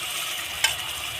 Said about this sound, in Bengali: এবার দিয়ে দেবো টমেটোর পেস্টটা যে করে রেখেছিলাম